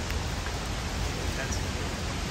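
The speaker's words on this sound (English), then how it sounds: "But it's still kind of raining." Light rain lingering outdoors in New York City after an intense storm, a dense steady hiss of drizzle filling the air, close and continuous.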